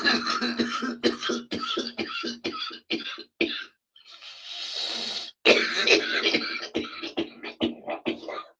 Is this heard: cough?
yes